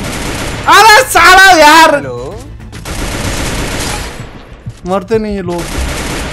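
Gunfire in Free Fire Max, loud rapid bursts from a gun mixed with a car engine in the background, with someone talking over and between the shots.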